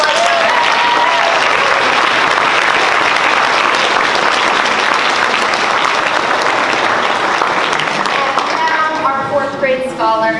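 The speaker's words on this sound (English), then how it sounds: "So we'll give Mr. Barry a full applause." Audience applause at a 4th grade school recognition ceremony: steady, dense clapping from a room full of people, sustained for about ten seconds before tapering off near the end.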